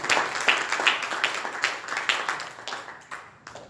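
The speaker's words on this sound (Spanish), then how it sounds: "Dale un aplauso" Congregation applauding during a church service, a burst of quick, irregular clapping from many hands at moderate volume, tapering slightly over a few seconds.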